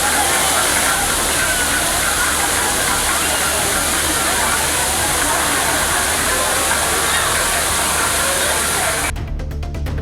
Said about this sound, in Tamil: அருவியிலும் தண்ணீர் மிதமாக கொட்டி வருகிறது